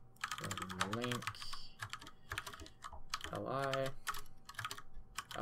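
Code is typed on a computer keyboard, quick clusters of light key clicks that come and go between stretches of a voice talking, fairly faint and close.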